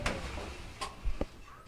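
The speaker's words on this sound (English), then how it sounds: "So now, we can go ahead and open the door," A Maytag MDE308DQYW electric dryer that is not heating has its door opened, a short close latch click and thump followed by a faint rattle.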